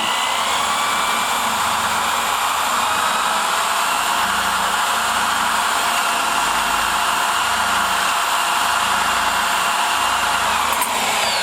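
A piloted cutting tool trims the port of an aluminum Chevy LT-1 cylinder head, producing a steady, loud, high-pitched whine of a spinning grinder that runs continuously, close up, with no talk.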